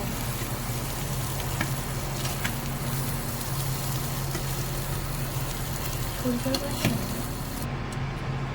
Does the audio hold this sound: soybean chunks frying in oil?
yes